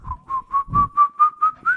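Whistled melody in a song, a clear solo whistle of about eight short notes in an even rhythm, with a soft low beat underneath.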